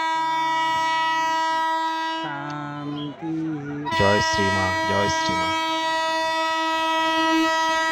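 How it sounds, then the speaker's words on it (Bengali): A train approaching Jayrambati sounds a loud, sustained horn in long drawn blasts. A voice chants over it before the horn swells again. "তা দেখুন, আসছে ট্রেন।"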